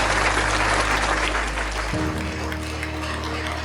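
Audience at a book launch and student honouring ceremony breaks into sustained clapping, a dense, loud burst of many hands filling the hall for several seconds.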